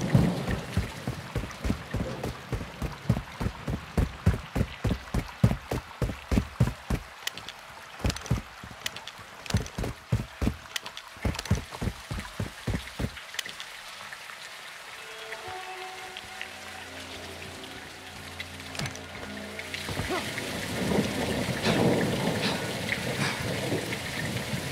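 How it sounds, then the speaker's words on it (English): Heavy rain pours in the Call of Duty: Modern Warfare 2 (2022) video game, opening with a rapid run of rhythmic thuds before settling into a dense, steady hiss of downpour. "It's raining fucking hard."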